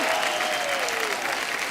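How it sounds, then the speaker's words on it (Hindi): Loud, dense studio audience applause for a film's cast on a Hindi comedy talk show, a steady wash of clapping with a faint tonal whistle across it, no talk on top. "एक बार भुज की पूरी स्टार कास्ट के लिए जोरदार तालियां हो जाए।"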